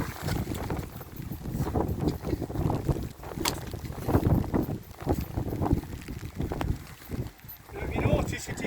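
Gusty wind buffets the microphone in uneven rumbling surges, loud and close throughout, while a camping windbreak is put up outdoors.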